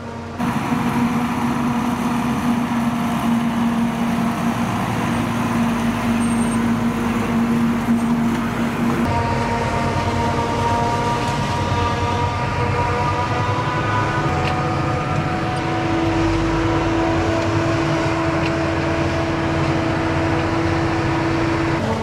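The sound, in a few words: Mercedes Unimog driving in first gear during maize chopping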